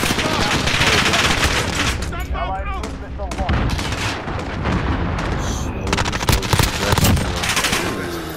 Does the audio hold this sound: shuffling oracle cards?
no